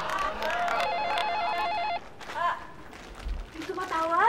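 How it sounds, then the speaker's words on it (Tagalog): An electronic telephone rings in warbling bursts, loud and close, cutting off partway through, while voices talk over and after it. "May tumatawag? Pakisagot naman yung telepono."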